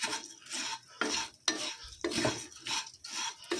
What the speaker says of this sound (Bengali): আর চিঁড়ে ভাজাটা একটু ভাজতে হবে, আর একটু লাল লাল না হলে